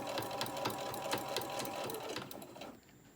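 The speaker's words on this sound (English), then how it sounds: "I'm going to start by sewing straight across." A sewing machine runs steadily, stitching straight across a small tote bag handle, a close mechanical whir with rapid needle clatter that keeps going for about three seconds, then stops and leaves near silence.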